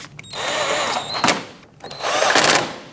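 A power tool drives bolts on the engine of a 2015-2024 Nissan Murano 3.5L V6 during a variable valve timing solenoid job, with two close whirring bursts separated by a short pause.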